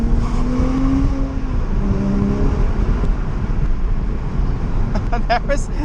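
A Porsche fitted with an Armytrix exhaust running in its quiet mode with the valves closed, giving a steady, fairly loud engine drone with a low rumble throughout.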